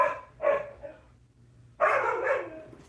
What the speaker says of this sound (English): Every time I try talking to her, the dog always gets in between us